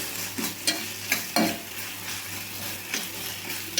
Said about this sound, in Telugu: ఇదిగోండి కొబ్బరి ముక్కలండి, కొబ్బరి కూడా వేగాలండి